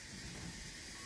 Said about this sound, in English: It'll release a little bit of steam